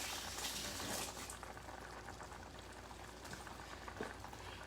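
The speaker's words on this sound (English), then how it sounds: "the ground beef is almost browned. I'm going to drain it a little bit" Grease drains from browned ground beef in a pan, giving a faint, steady sizzling and trickling hiss with no voices.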